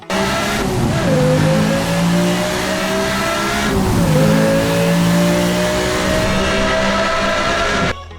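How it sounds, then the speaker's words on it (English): A loud exotic car engine in Need for Speed: Hot Pursuit revving and accelerating through gear shifts, pitch climbing then dropping before rising again, sustained for several seconds. "this car also sounds great when you hit the accelerator. Give it a listen."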